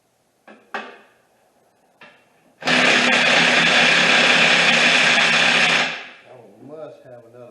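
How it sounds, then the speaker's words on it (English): A tool loosens the four steering rack bolts on an abandoned 1974 MGB GT: a couple of sharp metallic clanks, then a loud sustained whirring burst of about three seconds that winds down into softer clatter. "I'm going to take those 4 bolts loose on the rack."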